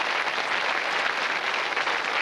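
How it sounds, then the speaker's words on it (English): A game show studio audience applauds contestants with dense, steady clapping. The applause stays even and loud throughout, with no voices over it. "Let's give them a jolly good round of applause."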